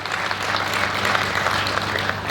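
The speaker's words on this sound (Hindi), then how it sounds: "एक बार जोरदार तालियां जरा इनके सम्मान में आप लोग बजा दें।" An audience at a Hindi poetry event gives loud, sustained applause in honour of the hosts, a thick, even roar of many hands clapping throughout, with faint crowd murmur beneath.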